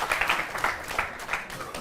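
An audience claps briefly and faintly for a young child, in a short burst of scattered hand claps with a trace of voice mixed in.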